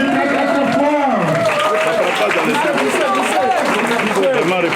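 Applause from an audience at a political party investiture ceremony for a section secretary general, steady clapping mixed with voices and cheering from the crowd throughout.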